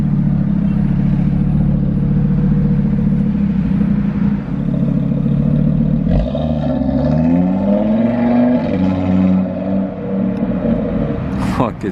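An Audi RS3 fitted with a Mi-Tech exhaust drives past on a street in Monaco. A loud, rising exhaust roar sweeps by close to the listener over steady traffic rumble, followed by a short revving burst.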